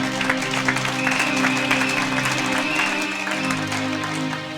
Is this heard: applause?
yes